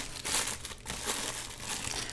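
Wax paper crinkles and rustles continuously while a Power Rangers Lightning Collection Remastered Blue Ranger figure is unpacked from its 30th Anniversary packaging, close and fairly steady with a few louder crunches.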